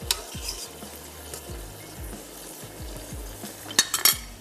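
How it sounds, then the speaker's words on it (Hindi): A spoon stirs Dew Drop olive pomace oil around a pan, giving repeated soft scraping strokes in a steady rhythm, close and moderately quiet, ending with a few sharper metallic clinks. "इसको मैं स्पून की मदद से थोड़ा सा मिक्स कर लेते हैं ताकि अच्छी सी ऑयलिंग हो जाए"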